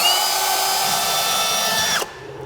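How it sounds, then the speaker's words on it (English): A power drill bores steadily through a steel vehicle frame rail during a helper air bag install, one loud continuous high whine that winds down and stops just before the end. "that wraps up the drilling holes for the passenger side"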